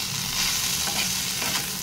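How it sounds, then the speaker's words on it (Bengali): Onions fried together with teasel gourd in a pan give a steady, close sizzle with light stirring scrapes throughout, no voices present. "পেঁয়াজটা দিয়ে আবার কিছুক্ষণ ভেজে নেব।"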